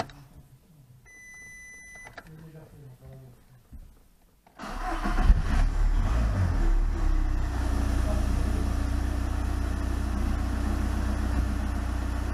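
A Volkswagen Golf V 1.9 TDI diesel engine cranks briefly and catches, then settles into a steady, loud, close diesel idle that runs to the end after a few quiet handling sounds.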